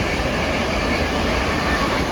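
Class 387 electric train 387134 rolls through Acton Main Line station on the Great Western Main Line toward London Paddington, a loud, continuous close roar of wheels and motors with no break.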